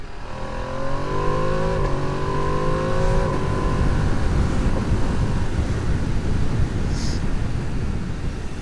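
A 2025 Ducati Panigale V2S superbike accelerates hard above 5,000 rpm, its exhaust note climbing through several gear changes before settling into a sustained roar with wind noise.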